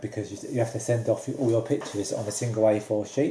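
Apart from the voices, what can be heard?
No everyday noises stand out.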